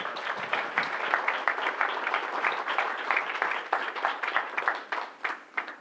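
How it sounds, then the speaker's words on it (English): A farm-to-table event audience gives a sustained round of applause to welcome the farm's owners, with dense, close clapping holding steady for several seconds. "Let's give them a round of applause."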